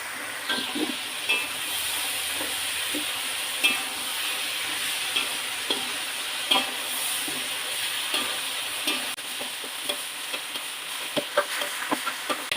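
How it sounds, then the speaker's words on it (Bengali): Broad beans and potatoes frying in a pan on a home stove, giving a soft continuous sizzle and hiss with light scrapes and clicks from stirring dotted throughout, heard alone. "আমার সিম আলু সুন্দর করে ভাজা হয়ে গেছে"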